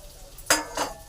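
A spoon stirs a sizzling tempering of ginger, green chillies and crushed peanuts for curd rice, making two quick scraping strokes against the pan over a faint sizzle.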